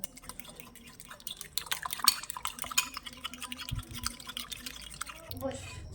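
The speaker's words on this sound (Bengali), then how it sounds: "কাটা চামচ দিয়ে এটাকে ভালো করে মিশিয়ে নেব" Fork clinking and scraping in a bowl while eggs are beaten with chopped onion, green chilli, coriander, salt and chilli flakes for egg paratha, a quick irregular run of light metallic taps close by, with talk over it.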